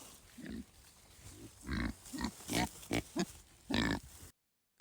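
Kunekune piglets rooting through hay inside a shelter on winter pasture: soft, close grunts and snuffles in short bursts, with a rustle of hay underneath, ending abruptly.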